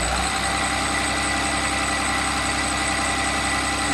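A 6.7 Cummins turbo diesel engine idles on Hythanol fuel with a steady, dense, low rumble and vibration that stays even and close throughout.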